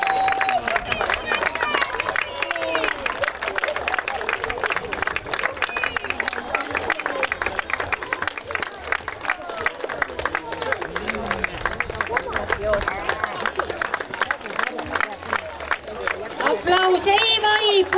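A crowd at a children's race claps steadily and continuously for runners reaching the finish, a dense, unbroken patter beneath a loudspeaker voice and cheering.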